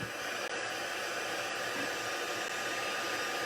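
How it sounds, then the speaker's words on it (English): A heat tool blows hot air to melt embossing powder on a folded paper craft piece, giving a steady, loud, unbroken whoosh like a hair dryer that runs alone without any talking. "now I'm going to use my heat tool to heat the powder and melt it"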